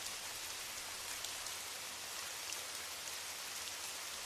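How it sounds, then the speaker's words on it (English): Gentle drizzle falling on Paris streets at night, a soft, even hiss of rain on the ground with no voices, steady and unbroken throughout. "the rain reduced to a gentle drizzle that whispers against the ground"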